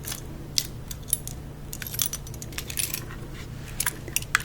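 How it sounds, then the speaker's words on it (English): Metal keys, including a Mazda car key, jingle and clink in short, irregular bursts, close up, with no talking. "These are my keys."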